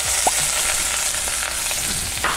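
Onions caramelizing in sesame oil in a clay pot, a dense continuous sizzle with occasional soft stirring scrapes and a small clink, close and steady throughout.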